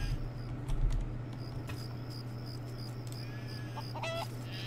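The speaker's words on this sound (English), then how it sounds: "Why is a chicken in my house?" A chicken clucks in the video game Craft The World, short soft calls over a low steady game-ambience hum, with no talk.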